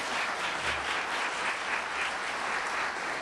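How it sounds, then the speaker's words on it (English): Steady applause from an evening audience welcoming two mayoral forum candidates, a dense even wash of clapping held at constant loudness throughout, with no talk over it. "Please give them a round of applause"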